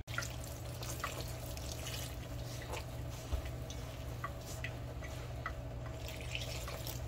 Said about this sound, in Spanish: Y ya vamos a poner el agua y ya.